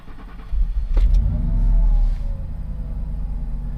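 A big muscle truck engine cranks and fires up with a short rev, then settles into a deep, steady idle rumble close by.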